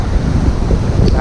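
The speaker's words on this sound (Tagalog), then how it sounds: "Sobrang lakas ng hangin, banda. Laki yung alon" Strong wind buffets the microphone with a low, rumbling roar, with big waves churning underneath at a river mouth in Bobon, Northern Samar; no voices.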